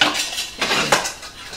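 A metal frying wok is handled during an Indonesian kitchen-utensil dance performance, giving a couple of sharp metallic clanks and scrapes over a soft, steady background, with no voices.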